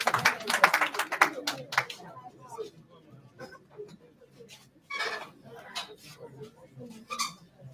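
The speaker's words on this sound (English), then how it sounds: "The round of applause of both, please." An audience at a political campaign fund launch applauds with scattered claps that come in uneven bursts and fade, mixed with voices.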